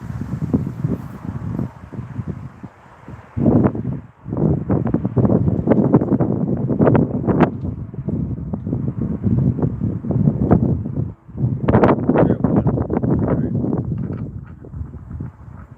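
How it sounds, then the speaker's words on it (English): Gusty wind buffets the microphone in a steady low roar, rising and falling in strong bursts throughout. "It's a little windy."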